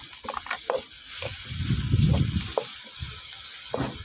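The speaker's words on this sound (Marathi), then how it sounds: "त्यामध्ये मिरची बी थोडी परतून घेऊ" Green chillies and coriander sautéing in a pan over a wood-fired clay stove for a pea chutney, with close spatula scrapes and sizzling swelling in the middle, no voices.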